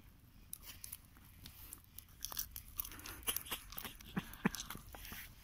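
Fried May beetle larvae are chewed close to the mic, with crisp, irregular crunches and bites that grow denser and louder toward the end over a faint background hiss.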